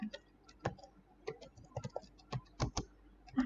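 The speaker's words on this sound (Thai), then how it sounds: "คุณครูก็พิมพ์นะคะดาวน์โหลดนะคะ" Typing on a computer keyboard while entering a search, heard as quiet, irregular close-up key clicks and taps, alone with no talk.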